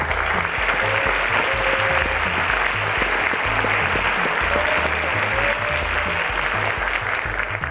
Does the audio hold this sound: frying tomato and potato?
no